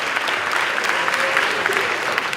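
At an eighth-grade graduation ceremony, the crowd breaks into brief, steady applause that stays full and even throughout.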